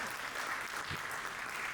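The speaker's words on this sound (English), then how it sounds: "give a round of applause for everybody who just stepped up here before" Audience at a poetry event in Cleveland applauds, giving a dense, steady patter of clapping that stays even throughout with no pauses.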